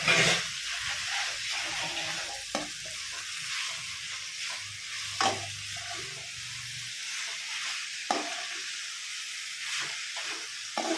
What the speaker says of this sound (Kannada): ಬೆಂಡೆಕಾಯಿ ನೀವು ನೋಡ್ಬೋದು ಎಷ್ಟು ಚೆನ್ನಾಗಿ ಫ್ರೈ ಆಗಿದೆ ಬೆಂಡೆಕಾಯಿ